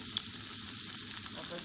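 Potatoes frying in a pan give off a continuous close sizzle with light crackling over a short stretch, and no voices are heard.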